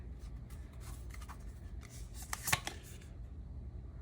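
Tarot cards being shuffled and drawn during a love reading, soft papery rustles and slides with a sharper snap midway, close and quiet with no talking.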